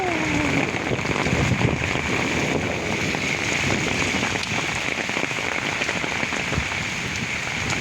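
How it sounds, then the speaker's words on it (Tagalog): Heavy rain pours down steadily near the Marikina River during a storm, a dense, continuous hiss of drops on surfaces with light wind, no voices over it. "wow ang lakas na ng ulan"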